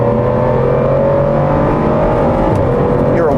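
An Aston Martin Vanquish Carbon Edition V12 engine roars loud and close, a sustained deep drone that rises in pitch as it revs toward the end.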